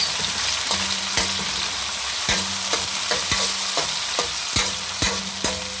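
Tomatoes sauté in a pan for pork pochero under a steady sizzle, with a spatula scraping and knocking against the pan in a regular rhythm of sharp strokes, close and fairly loud with no voices.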